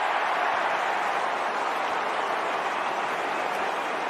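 A stadium crowd roars at a Carlton versus Collingwood AFL match in 2022, a dense, continuous wash of cheering that stays loud and even throughout.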